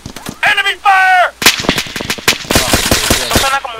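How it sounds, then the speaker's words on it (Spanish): Gunfire in the Arma 3 video game, an insurgency battle: loud, rapid cracks and booming shots in uneven bursts, with a brief tonal, voice-like sound early on. "Enemy fire."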